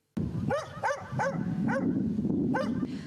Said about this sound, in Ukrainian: На згарище у дворі прибіг пес, хоче захищати вже нічого.